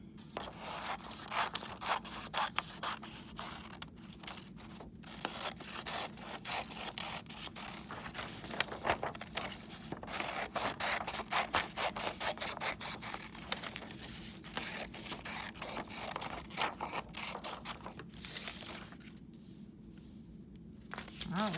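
Scissors cutting a page out of a paper packet in a classroom, a continuous run of crisp snipping, scraping and crinkling paper sounds close by, fairly quiet overall, with no speech.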